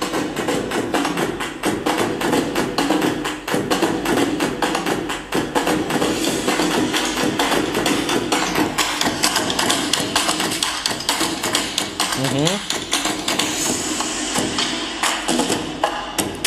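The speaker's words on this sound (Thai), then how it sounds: "เดี๋ยวเราลองดูเป็นเสียงแบบแนวเพอร์คัชชั่นหรือว่าเสียงแนวเคาะบ้าง" Percussion music plays through a small Havit 592BT 3W Bluetooth speaker, a dense run of rapid tapping and thudding hits at a steady rhythm, loud and close throughout, with no talking.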